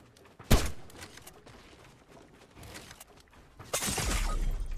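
Gunfire in the video game Fortnite: a sharp close shot with a shattering crack, a few faint pops, then a louder burst that trails into sustained rumbling noise.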